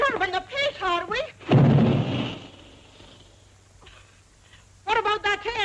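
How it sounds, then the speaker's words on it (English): A single deep boom from an air gun in the 1941 film Pot o' Gold erupts between stretches of dialogue, then rumbles and fades away before the talking resumes. "What about that air gun of yours booming all day and night?"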